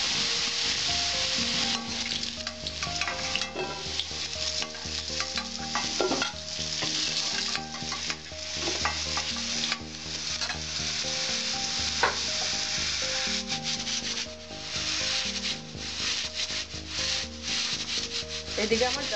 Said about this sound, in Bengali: আমার আলুটা ভাজা হয়ে আসছে